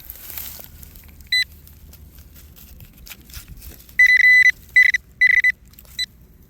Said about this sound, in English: I don't know what it is, but this is definitely the kind of tone you want to hear.